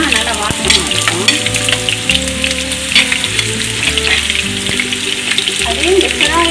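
Sliced onions fry in a pan of hot oil for chicken biryani, browning until golden. A dense, steady sizzle runs throughout, up close, and occasional stirring scrapes come through while music plays underneath.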